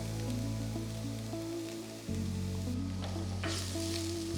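Ginger-garlic paste hits hot oil in a pan for dhaba-style paneer masala, a loud, continuous crackling sizzle under a steady low hum, with a sudden shift partway through as the frying intensifies.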